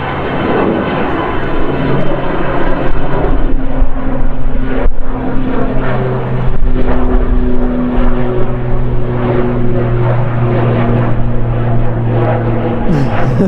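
A Lufthansa airliner roars past at Manchester Airport's south side, loud and near, its engine whine rising and shifting in pitch as it moves, with faint voices under the noise.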